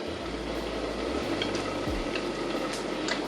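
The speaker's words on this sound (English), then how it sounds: "what I'm gonna do now is add back to this gravy my burgers" Vegan Salisbury burgers are added into simmering gravy in a pan, with a steady bubbling sizzle and a few soft scrapes and clinks from a utensil.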